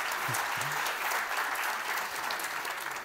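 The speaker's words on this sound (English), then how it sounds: "Big round of applause for Ryan." A conference audience applauds a speaker after a tech talk, a steady, even wash of many hands clapping throughout, with a faint voice briefly audible near the start.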